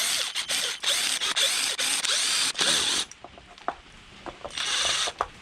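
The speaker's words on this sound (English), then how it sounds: "So now open these screws up, and normally the diff falls out." Screws on an Arrma Mojave RC car differential being undone with a power driver, several short whirring bursts separated by brief pauses, close and clear, then quieter clicks and a final whir.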